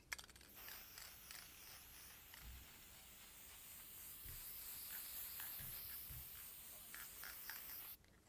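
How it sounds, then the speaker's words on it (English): Steady spray hiss applied over a painting of a cardinal, a continuous soft airy rush lasting about seven seconds with faint clicks and low bumps underneath, then stopping. "And we're going to spray that."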